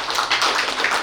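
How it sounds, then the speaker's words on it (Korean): Brief applause from an audience at an anniversary celebration honouring election winners, a short wash of dense clapping with no voices over it. "박수 부탁드립니다."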